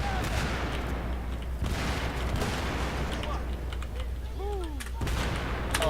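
Gunfire and explosions from the Battlefield 3 video game on the Operation Metro map rattle continuously, with repeated sharp bursts and a heavy rumble. Voices talk over the dense, loud battle noise.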